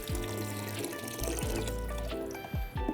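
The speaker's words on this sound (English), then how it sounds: "So next I'm going to add a 32-ounce box of chicken broth." Chicken broth from a 32-ounce box glugs and pours steadily into a pot for a few seconds, a continuous liquid splashing under soft background music.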